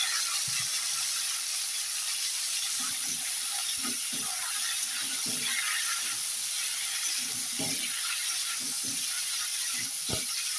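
Boiled rice frying in hot oil over lightly fried five-spice tempering, a constant bright sizzle and hiss with scattered soft scraping and clicking from stirring in the pan.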